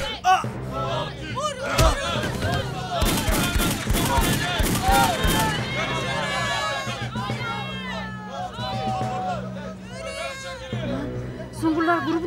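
Rapid bursts of gunfire in a TV drama shootout among a crowd, dense volleys in the middle under shouting voices, with people talking and yelling throughout.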